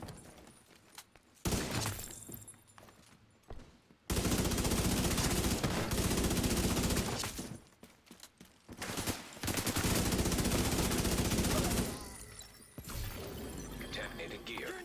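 Carbine fired with Striker gear in The Division 2 on Xbox, loud sustained bursts of rapid automatic gunfire separated by brief quiet gaps, with a voice speaking between bursts.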